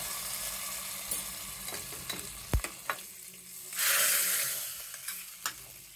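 Mustard seeds, asafoetida, chopped onion and curry leaves hit hot tempering oil for a dal with chukkakura, giving scattered crackles, a sharp knock, then a loud rushing sizzle swelling midway before easing back into light popping.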